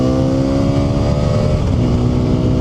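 Hero Xpulse 210 motorcycle in road mode accelerating hard, its engine a loud, steady, close-up drone with rising harmonic tones throughout, no voices over it.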